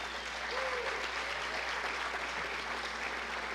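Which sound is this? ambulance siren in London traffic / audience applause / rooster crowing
audience applause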